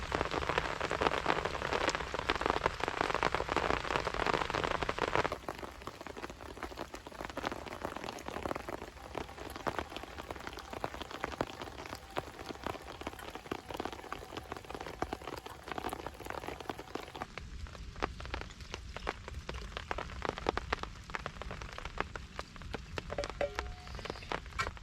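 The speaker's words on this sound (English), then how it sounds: "There's always something nice about being under the tarp or poncho when it's raining" Steady rain patters on a camping tarp or poncho in the woods, loud and dense for the first few seconds, then softer and continuous, with a lighter scattered drip texture throughout.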